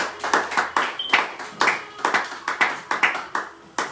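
A church congregation claps steadily in praise, a dense run of rhythmic hand claps close and loud, continuing evenly throughout without speech.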